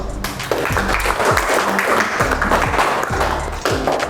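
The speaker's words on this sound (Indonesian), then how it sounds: "beri tepuk tangan dulu" Students clap in a classroom, a dense burst of applause filling the room for several seconds amid background chatter.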